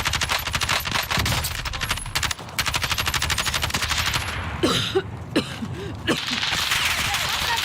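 Video game gunfire in dense, rapid automatic bursts, loud and close, broken by a few separate heavier shots, with no talking.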